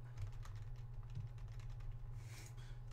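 Computer keyboard keys pressed in a quick, irregular series of soft clicks during a Dragon Age Origins gaming session, close and steady over a low background hum.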